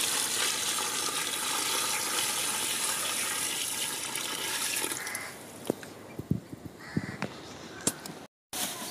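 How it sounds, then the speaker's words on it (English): Water pours into a biogas plant in Sri Lanka, a steady loud broadband rush for about five seconds, then giving way to a quieter stretch with scattered splashes, knocks and thin trickles. "Here you can see we are adding the water."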